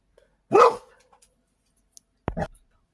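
A pet dog indoors gives two sharp barks about two seconds apart, loud and close in a quiet room, the first bark trailing into a brief softer whine.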